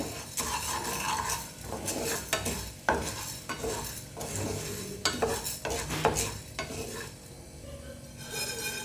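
Raw rice dry-roasting in a pan for a traditional Chettinad sweet, with steady rattling grains and repeated scraping and stirring strokes of a spoon against the metal, close and continuous.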